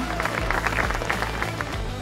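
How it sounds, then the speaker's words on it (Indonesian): Audience applauding at a campus event with young people in Aceh, a steady patter of many hands clapping at moderate volume throughout. "Tepuk tangannya dong."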